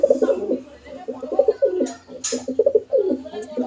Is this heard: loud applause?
no